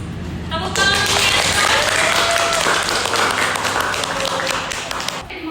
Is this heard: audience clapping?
yes